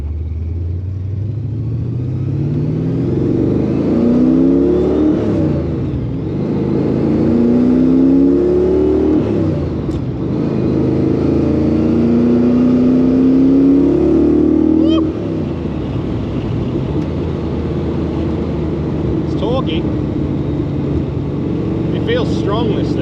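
A VR Iron Lion with a 355 stroker engine revs hard while driving, its engine note climbing repeatedly through gear changes in loud, close sweeps. People talk inside the cabin over the engine.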